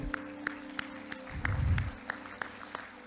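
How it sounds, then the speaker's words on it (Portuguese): A church congregation claps in a slow, even beat of distinct sharp claps, with a brief low rumble swelling in the middle. "Aplaude a Deus, aplaude."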